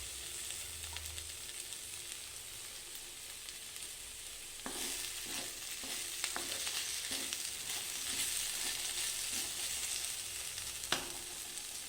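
Okra and crushed onions fry softly in a pan with a low, steady sizzle. Partway through, a spoon scrapes and taps the pan in a run of light, irregular strokes.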